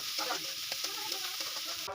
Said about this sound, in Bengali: গরম তেলের উপর পেঁয়াজটা দিয়ে আমি লাল লাল করে ভেজে নেব